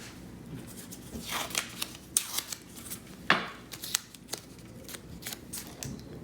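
Scissors snip through tape while wiring a homemade telescope dew heater strip, a handful of short sharp cuts and crinkles spaced irregularly at close range.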